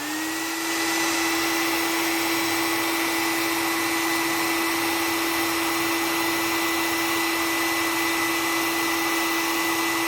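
A hair dryer runs on its no-heat setting, continuously with a steady whooshing roar and a high whine, close and unchanging throughout.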